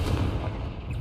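A Confringo blast spell cast in the Hogwarts Legacy video game, a loud booming explosive burst that fills the moment with a dense, rumbling crackle, dying slightly toward the end, with no talk over it.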